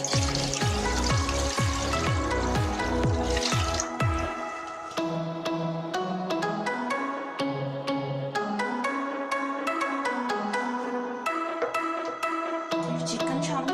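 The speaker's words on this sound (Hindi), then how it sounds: "सबसे पहले मैं इसमें 12 कप पानी शामिल करूंगी।" Water pours steadily into a cooking pan on a lit stove for chicken soup, twelve cups going in with a splashing, gurgling flow and scattered drips, followed by a quieter trickling stretch.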